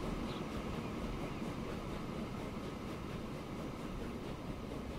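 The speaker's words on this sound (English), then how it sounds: "Oh, here comes another train." A train rolls past in the Transport Fever railway game, a steady, full rumble that holds at even loudness for the whole stretch with no talking over it.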